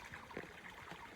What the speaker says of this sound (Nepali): पानी यसरी जाँदैछ